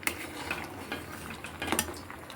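A metal spoon stirs chana dal with ginger paste in a pot, soft scraping and clinking against the pan with a faint sizzle underneath, a few louder knocks standing out from the quiet mixing.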